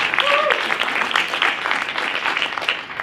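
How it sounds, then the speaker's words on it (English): Applause from an audience at a university lecture event, a dense steady wash of many hands clapping throughout, with a brief whistle or cheer near the start. "Let me give him another round of applause."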